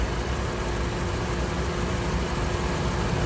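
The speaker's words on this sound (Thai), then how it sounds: "ตอนนี้เครื่องยนต์เป็นแก๊สอยู่นะครับ ใช้เชื้อเพลิงระบบแก๊สอยู่นิ่ง ๆ เลยครับนะครับ เครื่องยนต์เดินนิ่มเลยครับ" A third-generation Honda CR-V engine idles on LPG, a steady, smooth, continuous hum that stays even and close throughout with no voices.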